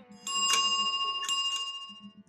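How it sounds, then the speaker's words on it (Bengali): A bicycle bell rings twice in clear metallic bursts over a soft low hum, close and distinct with a short pause between the rings. "সাইকেলের ঘণ্টা ধ্বনি"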